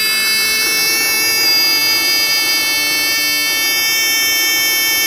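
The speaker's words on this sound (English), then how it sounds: "And when I have the solar panel fully on in the sun, that little buzzer" A small electronic buzzer wired to a solar panel in full sunlight emits a loud, steady, high-pitched tone without pause, alone and close to the microphone.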